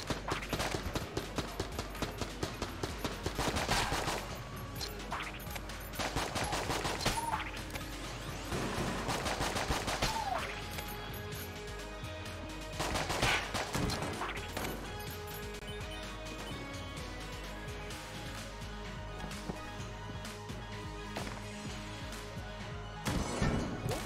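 Assault rifle fire in the roguelike shooter Enter the Gungeon, with rapid bursts of gunshots and crashing impacts in repeated volleys over a busy game soundscape, loud and continuous.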